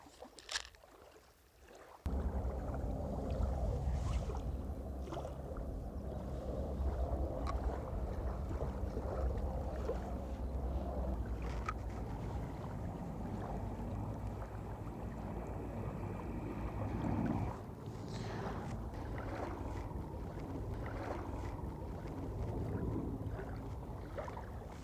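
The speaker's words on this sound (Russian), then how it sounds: "Поднялся ветерок неплохой такой." Strong wind blowing across open water during a May match-fishing session for roach, a steady broadband rush with gusty swells that continues for about twenty seconds after a brief quiet start, with no talking.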